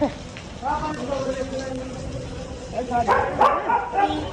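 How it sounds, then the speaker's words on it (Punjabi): Dogs bark repeatedly nearby over steady rain patter at a gurdwara, with a person talking at the same time. "ਨਾਲ ਹੀ ਕੁੱਤੇ ਆ ਗਏ ਕੁੱਤੇ ਭਜਾਓ"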